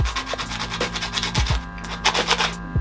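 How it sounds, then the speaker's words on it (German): Brake pads of a squeaking brake rubbed by hand with sandpaper, a run of close, loud rasping back-and-forth strokes in an irregular rhythm, with no talk. "Einfach hier das Schleifpapier nehmen und ein bisschen schön drüber rubbeln."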